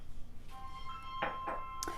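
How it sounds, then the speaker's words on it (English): A telephone rings in a home kitchen, a few short electronic trilling bursts with faint steady tones, moderately distant over low background hum. "And the phone is ringing."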